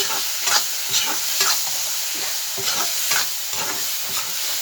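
Dried fish mixed with raw onion and salt is stirred in a pan, giving a steady soft sizzle with repeated scraping strokes in an even rhythm and no talk.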